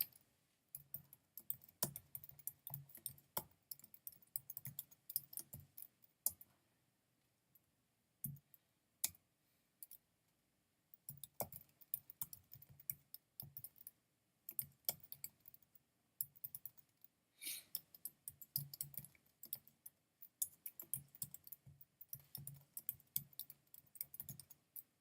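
Steady computer-keyboard typing while code is written, with dense bursts of clicking keystrokes broken by brief pauses, close and fairly quiet, with no voice.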